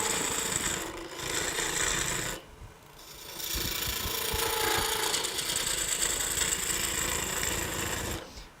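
A wood lathe gouge cutting a spinning wooden sphere makes a continuous loud rasping buzz with a short break, then resumes with a rougher, choppier scraping tone.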